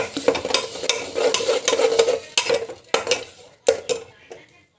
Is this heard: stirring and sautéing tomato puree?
yes